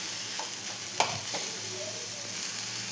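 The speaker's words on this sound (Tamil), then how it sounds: "இது கூட நம்ம தக்காளியை சேர்த்துக்கலாம். சேர்த்து நல்லா கலந்து விட்டுக்கலாம்." Onions and tomatoes stirred and frying in a pan for channa masala, a soft steady sizzle with a sharp spoon clack near the middle and light scraping strokes, close and fairly quiet.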